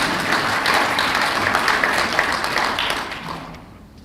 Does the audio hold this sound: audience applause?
yes